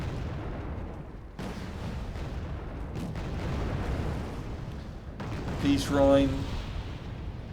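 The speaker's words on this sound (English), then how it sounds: "I do have the slightly longer range rocket launchers, so they should be able to blow up those tanks" Rocket launchers firing and explosions in the video game Wargame Red Dragon, with dull booms and bursts under a continuous battle rumble and a voice speaking over the action.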